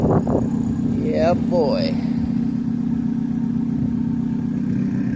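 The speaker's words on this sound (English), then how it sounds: "Give it one more rev now that she's got a little temperature in it." A car engine fitted with a new up-pipe muffler and nitrous-assisted turbo spool idles loudly and close with a throaty steady drone while someone speaks briefly over it early on.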